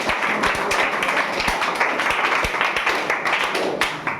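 A room of people claps for quiz participants at a class 10 coaching-class quiz competition, dense, lively clapping with sharp individual claps standing out, continuing steadily throughout.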